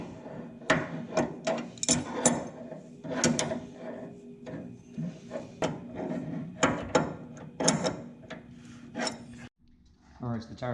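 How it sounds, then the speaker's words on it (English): A big radius rod nut being loosened on a Honda CRX Si suspension, close bursts of ratchet clicking and sharp metallic clanks in an irregular rhythm. "So you're gonna loosen this big nut here."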